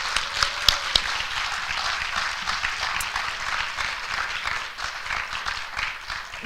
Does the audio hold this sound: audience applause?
yes